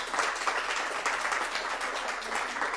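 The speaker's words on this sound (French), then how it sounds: "applaudissements pour cette belle initiative" Audience applause at a launch event for a solidarity mobility initiatives grand prix, a continuous wash of many hands clapping at moderate loudness, unbroken and without voices.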